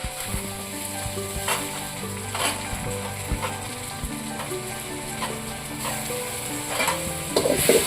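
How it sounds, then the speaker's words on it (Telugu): Chopped tomatoes hitting browned onions in a hot pan for chicken tomato masala, a loud steady sizzle with stirring scrapes and clinks throughout, no voices. "4 పీస్ టమాటా మేము కట్ చేసాం కదండి, అవి వేసుకోవాలండి."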